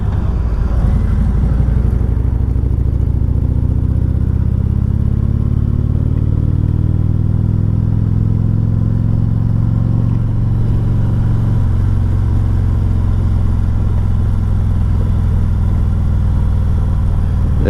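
A 2017 Harley-Davidson Tri Glide Convertible trike with a rear lift kit rides along the road, its engine droning steadily and loudly with a low rumble and some rising revs, and no talking over it.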